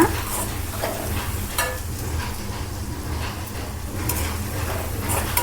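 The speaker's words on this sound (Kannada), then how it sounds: "ಸ್ವಲ್ಪ ಹಸಿ ವಾಸನೆ ಹೋಗುವವರೆಗೂ ಮಾತ್ರ ಹುರ್ಕೋಬೇಕು ಇವನ್ನ ಈ ಥರ" Chutney ingredients dry-roast in a pan, a soft continuous sizzle with scattered scraping stirs and light pan clinks at irregular intervals.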